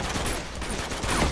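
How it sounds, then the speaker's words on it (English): A grenade launcher fires in the video game Uncharted 2, a brief, loud, dense burst of blast and gunfire noise lasting just over a second. "It's not an RPG, that's a grenade launcher."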